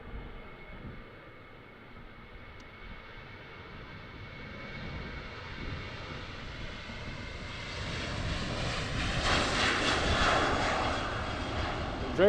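An airplane lifts off at Amsterdam airport in wind, its engine roar rising slowly from a distant rumble to a louder, fuller roar near the end.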